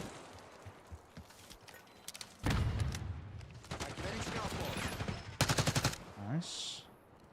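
Rapid SMG gunfire from a Black Ops 6 multiplayer match, several loud sustained bursts that stop and start again with short gaps, over background game noise and voice chat.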